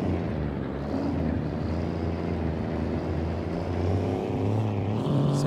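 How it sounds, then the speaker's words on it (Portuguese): Heavy Mercedes-Benz 11-13 truck hauling a box trailer in Euro Truck Simulator 2, its engine droning and straining steadily and loudly throughout with a low rumbling tone. "Se liga só, quase que estoura o motor"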